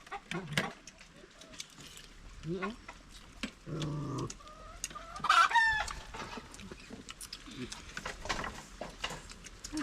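Farmyard chickens clucking and a rooster crowing, scattered bursts and calls near the microphone with one clear crow midway, mixed with people talking in the background.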